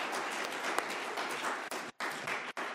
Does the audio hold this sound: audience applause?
yes